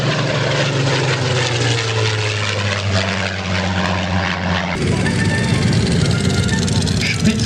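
A Supermarine Spitfire propeller plane flies past at the La Ferté-Alais 2014 warbird airshow, its engine a loud, continuous droning roar that shifts in tone partway through.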